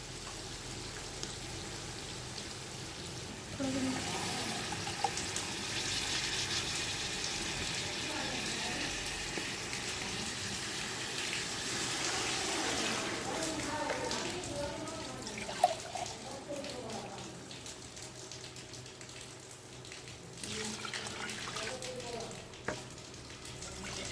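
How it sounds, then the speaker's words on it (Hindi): Beef stock is poured into a pot of rice for beef yakhni pulao, with a steady sizzling, rain-like hiss and stirring clatter running throughout at moderate level. "तो अब हम अपनी जो यखनी है उसको ऐड कर देंगे।"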